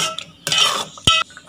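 A spoon stirs sakkarai pongal with milk and jaggery in a metal pot, giving a few short, close scraping and clinking strokes separated by brief pauses.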